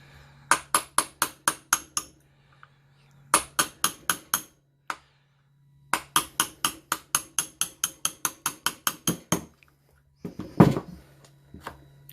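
Hammer blows drive a pin out of a Milwaukee Orbital Super Sawzall during servicing, sharp metallic strikes in three rapid bursts with brief pauses, then a few scraping clatters at the end, close and loud without talk.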